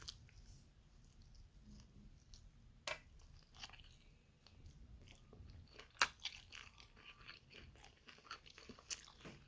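Someone chews barbecue ribs cooked in a Masterbuilt gas smoker, with soft, close crunching and wet bites spread out over a quiet background.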